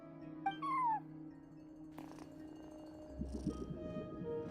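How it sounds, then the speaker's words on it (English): A cat mews once, close and clear, at a front desk in a video game, followed by a soft chime and quiet ambient game sounds, with no talking. "No one except for a cat watching over the front desk."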